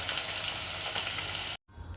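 Paneer frying in oil in a wok, a steady dense sizzle that runs close and loud before cutting off abruptly near the end, followed by a brief quieter crackle.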